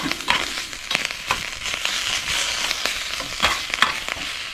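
Sauerkraut and pepperoni fry in a pot over a brisk open flame, giving a steady close sizzle broken by repeated scraping stirs and sharp clatters.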